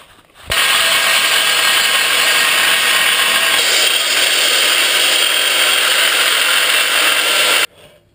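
Power tool cutting a steel propane tank, starting abruptly into a steady loud grinding whine that holds for about seven seconds and then stops, close up with no talk.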